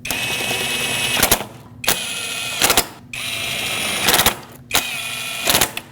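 Solenoid bolts on a 2006-2015 Lexus IS250 are snugged up with a ratchet in four close, repeated bursts of rapid clicking, each followed by a short pause, with no voices.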